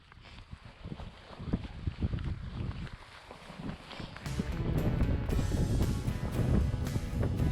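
Harsh wind buffets the microphone while mountain biking along the top of a valley on a funduro trail, a steady broadband roar that grows louder and denser in the second half, with gusty low rumbles and no talking.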